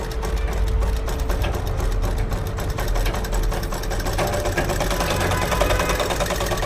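A sewing machine stitches sleeves in a loud, continuous motor hum with a fast, even needle rhythm, running without a break from start to finish, close up.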